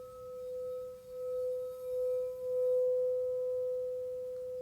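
A crystal singing bowl rings with a sustained pure tone and a fainter higher overtone, swelling gently in and out over several seconds, close and fairly quiet with no voices.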